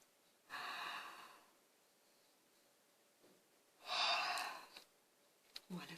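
A person yawning with the mouth opened wide, two long breathy yawns about three seconds apart, close and fairly quiet, followed by a short breath at the end.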